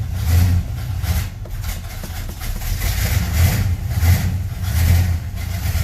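An engine with no choke hooked up, low on gas, runs at a steady, rumbling idle after a cold start, its low throb pulsing slightly and close by, with no talking.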